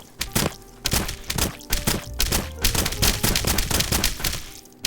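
Rapid bursts of shotgun fire in the video game Escape from Duckov, with elemental weapons in play: a dense run of loud, close blasts and thuds across the whole stretch, a few spaced at first and then coming quickly one after another.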